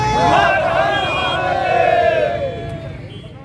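A large crowd at a Hindu organisations' protest in Tarn Taran roars a jaikara in unison, a loud sustained chorus of voices that fades out near the end.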